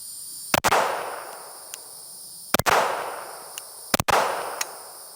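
Three sharp, loud gunshots from a Glock 49 pistol fitted with a Radian Afterburner compensator, firing low-light ammunition, spaced about two seconds apart, each followed by a ringing decay.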